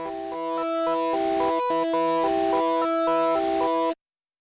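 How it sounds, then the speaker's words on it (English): A synthesized electric guitar patch made in SunVox plays a looping melodic pattern of steady, layered notes with a dense buzzy texture. The sound stays moderately loud with no talk, then cuts off abruptly near the end. "I originally made that with this electric guitar."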